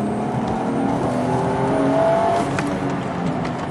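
Toyota TRD Chaser car engine revving, rising and falling in pitch at close range, peaking mid-way before easing off.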